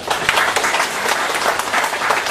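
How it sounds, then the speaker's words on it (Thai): An audience bursts into sustained applause to welcome a lecturer at a Thai academic talk on the Mahabharata and Ramayana in Southeast Asia. The clapping is dense and steady, with no talking over it. "ขอเสียงปรบมือต้อนรับอาจารย์สุวิทย์ลือชัยครับ"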